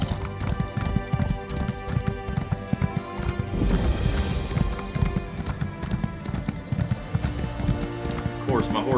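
Horse hooves gallop in a steady rapid clip-clop throughout a ride in the video game Elder Scrolls Online, loud and continuous over game music and ambience.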